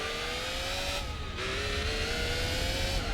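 Car engine at full throttle in Gran Turismo 4, a loud sustained high-rev roar with a quick gear-shift dip about one second in, then pulling steadily upward, no voices.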